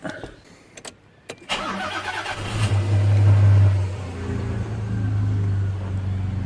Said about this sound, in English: I'll start the car and show you straight away